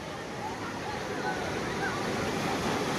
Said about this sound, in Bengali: সমুদ্রের গর্জনের সাথে ঢেউ।